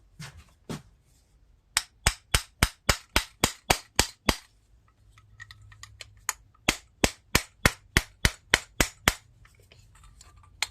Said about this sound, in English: Probably need to get a little hammer tap on it.